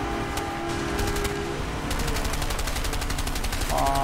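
Automatic gunfire in the video game A Way Out comes in rapid, loud bursts of shots, a steady rattle over a rumbling engine-like drone, with a short tonal effect near the end.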